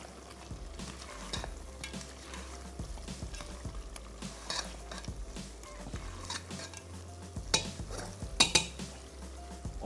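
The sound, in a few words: chillies frying and being stirred for nihari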